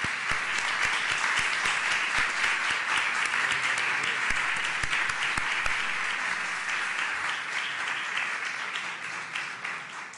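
Sustained applause from the audience at a Catalan geography book anniversary event, honoring the panel speakers; steady dense clapping fills the whole stretch, fading slightly toward the end with no talk over it.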